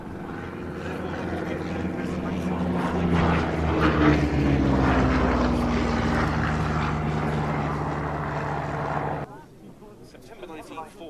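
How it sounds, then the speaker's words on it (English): Hawker Hurricane fighter's piston engine droning loudly as it comes in to land, pitch slowly falling as it passes, then cutting off sharply near the end, with speech over it. "In comes the Hurricane to land after its gunnery training sortie Dave Hawley in the controls"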